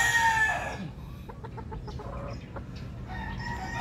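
A Sweater Kelso gamecock rooster crows at close range, a short loud call fading out, followed by a few faint clucks against steady low background noise.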